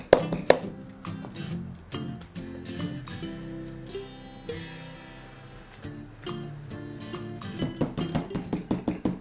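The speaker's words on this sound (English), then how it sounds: "we'll turn it to the other side just to pound it a little bit more" Pork slices for cereal pork chops being pounded flat with repeated dull thuds, irregular at first and settling into a quicker rhythm near the end, close and fairly loud with no talking.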